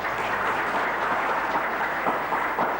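Audience applause after three speakers finish at a national seminar on tauhid, a steady, dense wash of clapping that holds evenly throughout without any voices.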